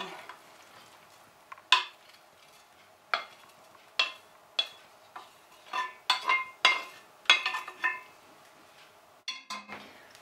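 Hot apple filling for a grated apple pie goes into a baking form as a utensil makes a series of sharp scrapes and clinks against it. The sounds are close and irregular, with quiet pauses between them and no talking.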